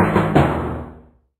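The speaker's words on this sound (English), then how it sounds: "A timpani sounds like this." A timpani in a children's orchestra setting: two booming drum strokes close together, the second slightly stronger, then a resonant ring that fades over about a second, heard alone.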